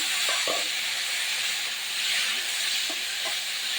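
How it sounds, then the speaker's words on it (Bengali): Potatoes and taro fry in oil in a wok for a green-chilli taro curry, making a constant broad hiss with a few soft bumps of movement near the start and end, without any speech. "তো আলু আর গাঁটি কচু মিলে এবার আমি তেলে ভেজে নেব"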